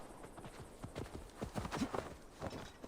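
Horse hooves clip-clopping in Assassin's Creed Valhalla, a steady run of close, distinct hoof strikes over a low game ambience, with a faint whinny-like tone near the middle.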